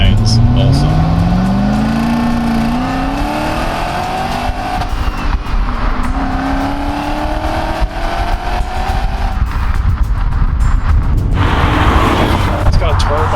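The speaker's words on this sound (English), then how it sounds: "It's got a turbine-like whine to it, which is so cool." A BMW 535i Alpina with a V8 of about 235 brake horsepower revs up repeatedly while driving, a loud close roar with a rising turbine-like whine; a voice talks over the engine.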